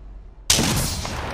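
A single loud sniper rifle shot from the character Ash bursts in sharply after a near-silent moment, then leaves a long, roaring echo that fades slowly.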